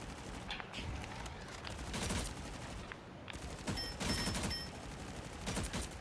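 Rocket's gun in the video game Marvel Rivals firing in several quick bursts of shots, with short pauses between volleys, under game sound effects.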